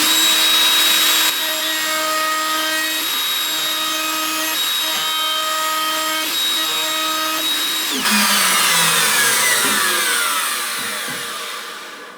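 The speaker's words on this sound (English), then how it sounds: "I got out the router table and we'll give her a shot here" Router table cutting a Roman ogee profile into a wooden edge: the motor whines steadily at high speed, dips as the bit bites in, then spins down with a falling whir toward the end.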